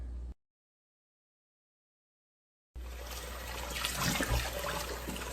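Tap water running into a kitchen sink while oxtails are rinsed, a steady splashing gush that starts abruptly after a short silence and carries on alone.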